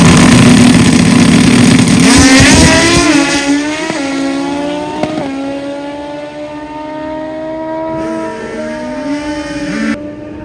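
A motorcycle engine revs loudly at a bike fest, then settles into a falling whine, its pitch sliding down as it idles, close by with no talking.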